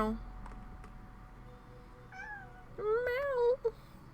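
Cat meows in the zoo-building game Streamland Park, a short rising call followed by a louder drawn-out meow, over a quiet background.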